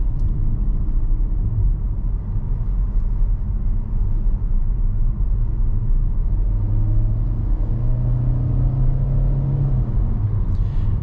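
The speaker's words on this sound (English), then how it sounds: "as soon as I need the power, it's very reactive to my throttle inputs, and away we go" A 2025 Kia Soul EX with a CVT transmission accelerates from the driver's seat, its steady low engine rumble rising gradually in pitch as throttle is applied, loud and continuous with no talking.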